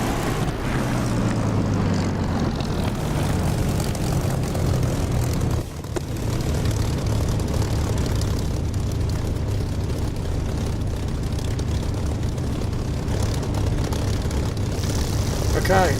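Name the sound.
aircraft engine taxiing in the video game DCS flight simulator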